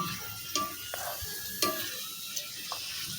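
Fuchka puffs fry in hot oil with a steady hiss and sizzle, broken by a few sharp clinks and scrapes of stirring in the pan.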